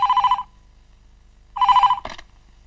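A telephone bell rings indoors in two short bursts separated by a pause, followed by a brief click as the receiver is picked up.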